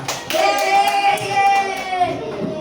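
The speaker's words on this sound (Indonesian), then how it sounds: "Tepuk tangan buat kita semua" Students and a teacher clap together during a classroom teaching-practice session, the brisk claps running beneath a sustained sung or chanted voice and other young voices.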